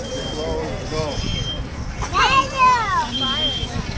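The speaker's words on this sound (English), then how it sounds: "The smoke detector went off." A smoke detector sounds a steady, high-pitched alarm tone during a house fire demonstration, heard in two stretches under people talking nearby.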